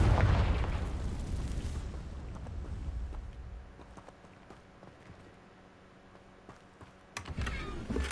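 A fiery Confringo spell blast in Hogwarts Legacy erupts loudly at the start and rumbles away over several seconds, followed by a sharper burst of sound near the end.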